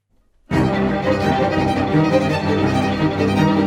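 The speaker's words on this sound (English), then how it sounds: "So this is a real string quartet." After a moment of silence, a string quartet begins playing together, a full, rich and slightly rough ensemble sound that carries on steadily.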